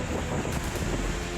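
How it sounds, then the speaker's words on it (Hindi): Strong wind and rain buffet the beach at Digha on the coast, a loud, continuous roaring rush with wind noise on the microphone and no voices. "यहाँ पे बारिश शुरू हो चुकी है, तेज़ हवा भी शुरू हो चुका है।"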